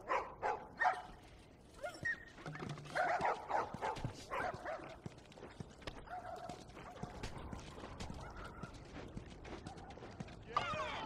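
Several dogs bark, yip and whimper in The Last of Us, in irregular close bursts with shuffling and other background noise.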